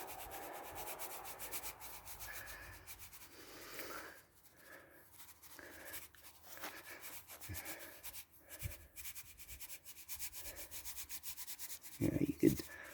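Beach sand is sprinkled by hand onto wet paint on a timber ramp, making a soft, faint, scratchy rustle that comes and goes in small bursts against quiet outdoor surroundings.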